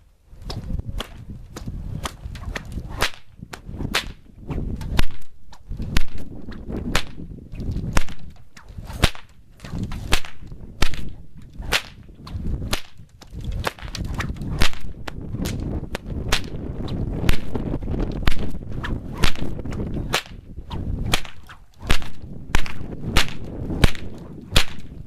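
A whip cracks again and again in quick, uneven bursts, sharp and loud, near and alone for a long stretch.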